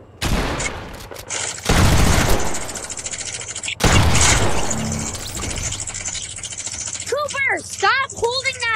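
A minigun in a video game spins up with a mechanical whir and unleashes two long, loud, continuous streams of rapid fire, followed by ringing, chirping game effects; voices talk over parts of it.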